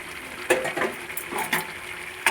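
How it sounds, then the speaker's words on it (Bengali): Chicken and fried potatoes sautéed together in a pan, with close, uneven stirring scrapes and clatter against a steady low sizzle, no voices. "আলুর সঙ্গে মাংস কিছুক্ষণ কষিয়ে নেব"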